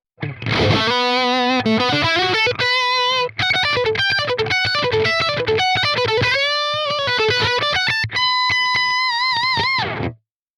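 Fuller, heavier distorted electric guitar lead through Archetype: Nolly X with bass boosted plays sliding and sustained notes, some high and held, loud and continuous with short breaks.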